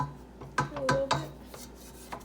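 A spatula scrapes around a cupcake batter mixing bowl with a few short, close rasping strokes and soft knocks, quiet and alone.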